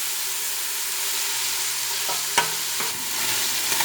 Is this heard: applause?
no